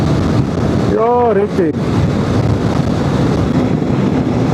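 Strong wind roars over a rider on a motorcycle in Andalusia, a loud constant rush throughout, with someone speaking briefly under it.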